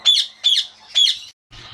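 A grey-green Alexandrine parakeet gives three loud, harsh squawks in quick, even succession, close by, followed by a brief fainter sound.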